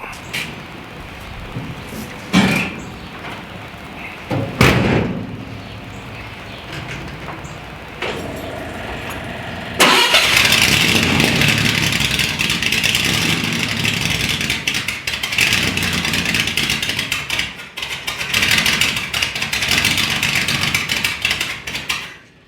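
A 1953 GMC truck engine cranking with a few sputters and knocks, then catching around midway and running loud and rough, with revving surges and a steady idle.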